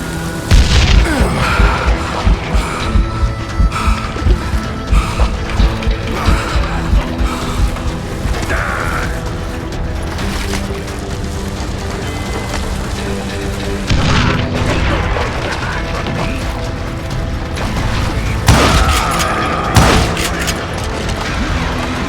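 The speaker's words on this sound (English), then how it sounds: "Can't hide from dynamite!" Dynamite explosions and gunfire from the Call of Juarez Gunslinger video game come as repeated heavy booms and bursts of shots, loud and dense at the start and flaring again near the end.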